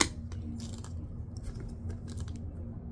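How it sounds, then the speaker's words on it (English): Short metallic snips and clinks of scissors being moved about close by, over a low steady hum. "Get the scissors out of the way"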